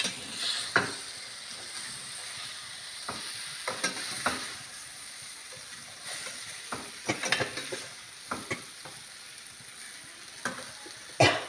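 Sesame seeds and chilli powder frying in a pan, a faint steady sizzle with frequent scattered clinks and scrapes of stirring, close and fairly quiet.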